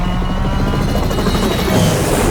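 A helicopter flying low in Call of Duty Modern Warfare 3, a loud, steady rotor thrum and engine whine, close and continuous with no voices.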